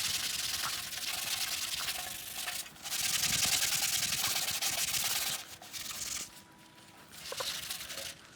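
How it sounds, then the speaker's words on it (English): Scrubbing in a car engine bay with OxyTech acid rust remover: a steady, close brushing and rubbing noise that runs on in long strokes with brief pauses between. "We'll scrub that side."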